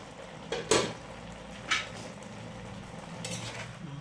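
A spoon scrapes and clinks against a metal pot a few times while curry simmers softly in the background.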